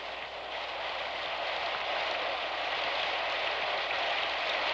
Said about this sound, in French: Ma pauvre petite Claire, perdue sous cette pluie diluvienne, elle doit être trempée de la tête aux pieds.